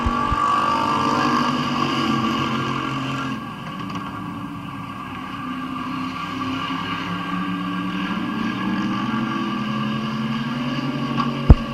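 Street stock race cars in a heat race at Midvale Speedway: a steady, loud engine drone from the pack circling the track, with pitch rising and falling as cars pass, and a sharp bang near the end.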